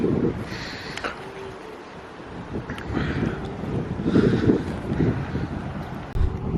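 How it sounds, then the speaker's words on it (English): Gusty wind buffets a handheld microphone at a high scenic overlook in Samarkand, Uzbekistan. The roar is loud, broadband and continuous, swelling and easing in rough waves for several seconds with no talking. "it's getting really windy here"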